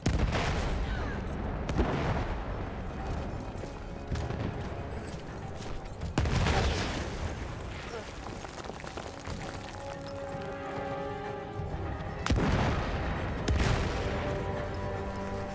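Machine guns fire in a war video game, including guns trained on a searchlight with Germans nearby: rattling bursts of gunfire and booms, with heavier volleys near the start, middle and end and a busy din of shots between them.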